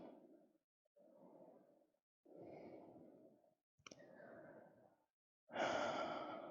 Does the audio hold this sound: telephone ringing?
no